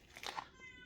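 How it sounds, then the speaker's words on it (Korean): A single short, sharp cat cry outdoors in a garden, part of cats fighting, heard briefly and at moderate volume. "쟤네들 어쩌거나 고양이들의 싸움을 말려봐야겠어요"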